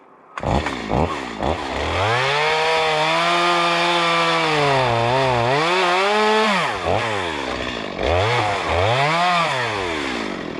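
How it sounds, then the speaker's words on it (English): A chainsaw cutting firewood from a tree, loud and close, revving up, settling into a sustained cutting drone with pitch dips as the chain loads, then several throttle blips and revs. "Whenever you're cutting firewood, make sure you always be aware of what could be falling off the top of the tree"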